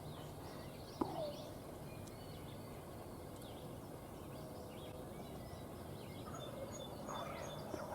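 A wild turkey gobbles once, faint and distant, during a spring hunt in the northern Pennsylvania woods, followed by quiet background hiss and a few soft, far-off calls.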